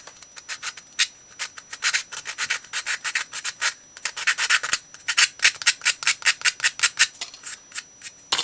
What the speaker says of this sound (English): That probably needs to be sanded down just a touch more.